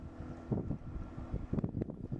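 Yamaha 25 hp four-stroke outboard pushing a small boat with three people aboard, a steady low engine drone under buffeting wind noise and rushing water.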